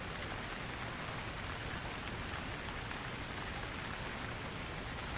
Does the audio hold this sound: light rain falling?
yes